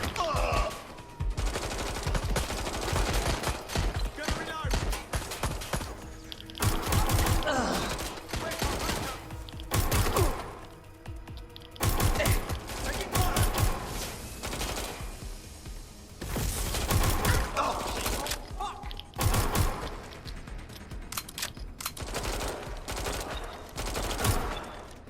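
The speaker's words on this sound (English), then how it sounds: "Shots fired!" Sustained gunfire in Watch Dogs Legion, a loud, dense fusillade of overlapping shots and bursts running throughout with brief lulls, busy and close.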